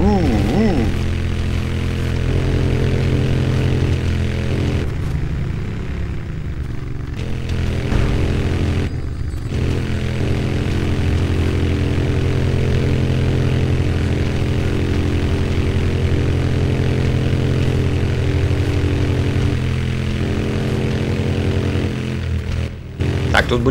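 Motorcycle engine in the video game Tomb Raider Underworld, a steady loud droning hum that runs the whole time with slight pitch shifts and brief dips.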